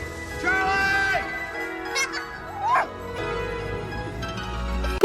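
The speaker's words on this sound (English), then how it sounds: "Puppy!" A puppy yips and whimpers in short bursts amid movie-style background sound and music, with a few louder cries near the end.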